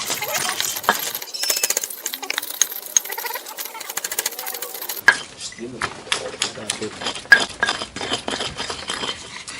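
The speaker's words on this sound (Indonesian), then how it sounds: "kita ngulek bumbu untuk masak tutut ya" Spices such as shallots, garlic, turmeric and chili being pounded and ground with a stone mortar and pestle for cooking field snails outdoors near rice paddies, with repeated tapping and scraping strokes while a person talks.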